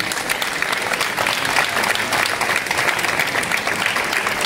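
Steady, loud clapping from an audience at a children's princess-and-knight casting in 2024, a continuous wash of many hands with no pauses.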